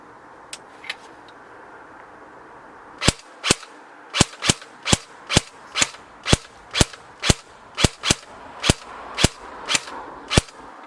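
A G&G CM18 MOD1 airsoft rifle is fired outdoors: two faint early shots, then about fifteen sharp, close snapping shots in a fairly steady semi-automatic rhythm, with no talk.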